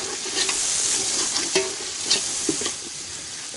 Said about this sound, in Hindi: मिक्स करेंगे अच्छे तरीके से।